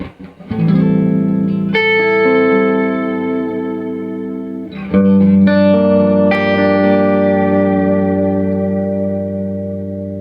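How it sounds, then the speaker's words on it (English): Sustained electric guitar chords through a clean amp and a BigSky reverb ring out with a long, lush ambient reverb tail, two strummed chords blooming and trailing off smoothly, loud and close. "Really just ambient kind of reverb that trails a little bit more."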